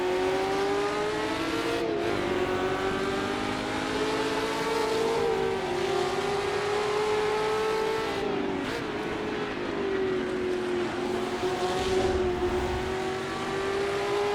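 Onboard engine note of a 1966 sportscar lapping Oulton Park: a steady, loud drone rises and falls as the driver shifts and accelerates through the corners, with no voices.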